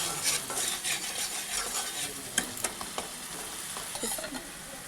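Spices frying in oil in a pan over low gas for chhana kalia, a soft steady sizzle with repeated scraping stirs and occasional sharp clinks of a utensil against the pan.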